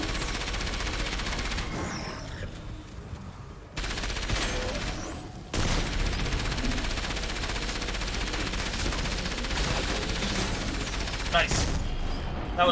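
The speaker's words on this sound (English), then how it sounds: "We're going to activate the gun. And then we're going to shoot." Gunfire in the video game Enslaved: Odyssey to the West, a dense, loud clatter of repeated shots and booming impacts running almost continuously under game sounds, with abrupt shifts in intensity.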